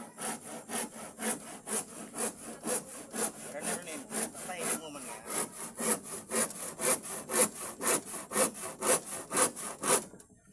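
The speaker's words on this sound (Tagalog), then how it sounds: "Ito yung maliit na lagari yung gamit natin, pang finishing ko kasi ito mandaragat." A small hand saw cuts wood pieces during the building of a traditional outrigger boat (bangka), with close, steady back-and-forth strokes repeating in an even rhythm throughout.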